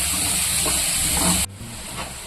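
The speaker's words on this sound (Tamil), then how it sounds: "வெங்காயம் கொஞ்சம் வதங்கட்டும்." Onions sautéing in a pan for a chicken leg piece gravy, a loud continuous broadband hiss and sizzle that drops abruptly in level partway through, then carries on more quietly.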